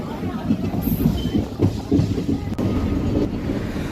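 Steady rumble of a moving Digha–Kolkata train heard from inside a passenger coach, with continuous low running noise, faint rattles and brief clicks throughout.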